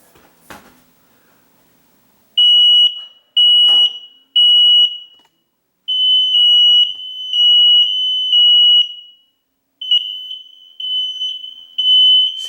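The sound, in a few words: smoke alarm sounding during reset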